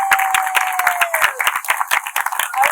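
Live outdoor crowd clapping for a mural artist at a wall-art unveiling, a steady round of hand claps with individual sharp slaps, a faint whistle-like tone sliding down at the start, no talk over it.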